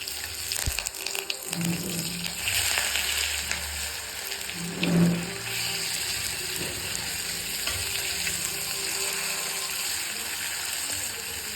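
Potatoes frying in a pan, a steady soft sizzle with occasional stirring scrapes and brief louder bubbling bursts, close and continuous without speech.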